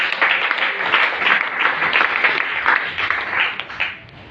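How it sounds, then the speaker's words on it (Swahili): A church congregation claps in praise of Jesus, a dense burst of many hands applauding together, loud and sustained before fading away near the end. "Pigia Yesu makofi."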